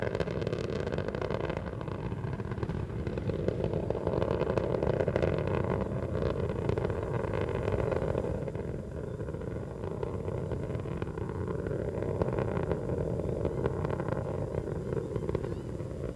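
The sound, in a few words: Space Shuttle Atlantis main engines during launch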